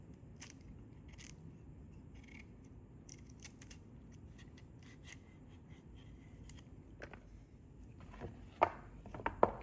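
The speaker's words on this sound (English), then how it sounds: "we're just going to finish cubing our butternut squash" Knife cutting butternut squash into cubes on a board, a run of soft irregular chops and scrapes that grows louder with a few sharper cuts near the end.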